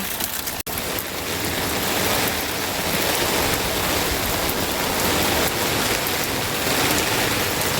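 Steady, dense rain pours down on a rooftop garden and splashes into a bucket, a constant rushing hiss with one brief dropout near the start.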